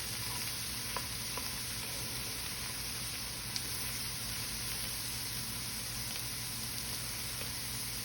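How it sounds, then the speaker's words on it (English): Sausages for fried rice sizzling in a pan, a steady quiet hiss of frying with faint occasional clicks, no talking. "So you want to let the sausages heat up some more."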